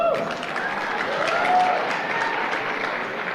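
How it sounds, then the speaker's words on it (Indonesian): A round of applause from an audience at a seminar, a dense, continuous clatter of many hands clapping at steady volume, with a faint voice briefly audible near the start. "Oke Pak, tepuk tangan."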